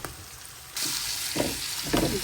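Fish hits hot oil in a pan and erupts into a loud, continuous sizzle and crackle after a brief quiet start, with occasional stirring bursts close by.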